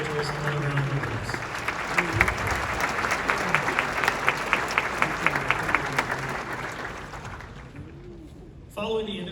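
An audience at a district band event applauds the band directors and host, a sustained round of clapping that swells and then fades out, with voices heard over it.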